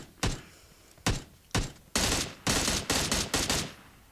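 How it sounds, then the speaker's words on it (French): Gunfire in the battle royale game PUBG: loud, close sharp shots, single reports at first, then dense bursts of rapid automatic fire in quick succession, with no talking. "j'entends encore des coups de feu"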